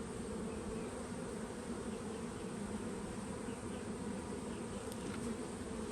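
Honey bees swarm over a frame lifted from the hive, a dense and steady close buzzing hum that carries on without a break and without any talk.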